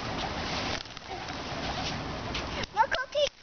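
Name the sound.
flock of pigeons being fed cookies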